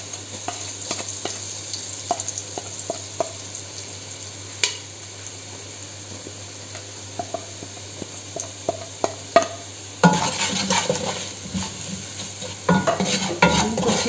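Spices and browned onions fry in a pot, making a steady sizzle under frequent scraping taps of a spoon, growing louder and busier toward the end.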